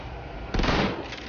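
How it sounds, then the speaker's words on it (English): A single shotgun blast in the video game Shadowrun: Hong Kong, one loud, close boom with a short, rough tail. "I could shoot him with a shotgun"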